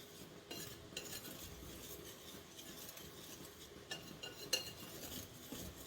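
Salt is mixed into dry cake ingredients in a bowl, a faint, close, irregular scraping and stirring with soft clinks of a utensil, quiet and without talk.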